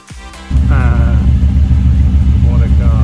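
At a Castle Combe circuit summer action day, a car engine roars into a loud, heavy rumble with rising and falling revs as it passes close by. Voices talk underneath the engine noise.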